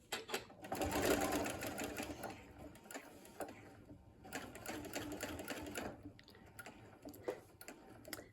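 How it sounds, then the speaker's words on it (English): A sewing machine stitches seams on framed pinwheel quilt blocks, running in quiet bursts of rapid mechanical ticking with short pauses between runs. "I'm just going to move this over and push it back so I can kind of feel it nest with my hand too while I'm going through and sewing."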